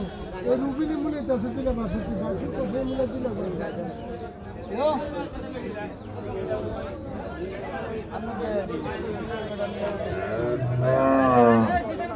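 Cattle lowing now and then at a busy cow market in Barura, Comilla, the moos rising over steady crowd chatter and bargaining voices throughout.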